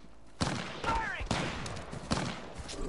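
Bursts of gunfire in the battle royale video game Apex Legends, several sharp shots with rapid follow-up fire, fairly loud over game ambience, with a voice briefly heard amid the shooting.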